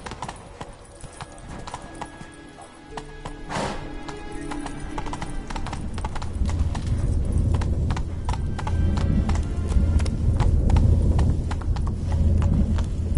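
Roach, a horse in The Witcher 3, clip-clops along at a steady run, hoofbeats growing louder and denser in the second half, with a brief whinny and quiet game ambience behind.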